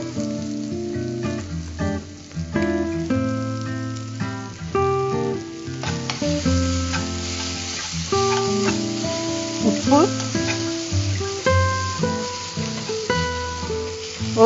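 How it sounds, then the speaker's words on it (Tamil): Grated raw mango sizzles and sautés in a pan as a utensil stirs it, with close crackling fry noise and irregular scraping clatter throughout, no speech. "இப்போ வந்து மாங்காய் வதங்கிட்டு இருக்கு, மாங்காய் துருவின மாங்காய்."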